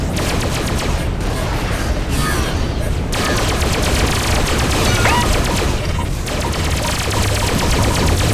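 Spacecraft weapons firing in the Freespace 2 space combat game, a dense continuous barrage of loud rapid-fire blasts over a roaring engine bed, with a few sweeping zaps layered on top.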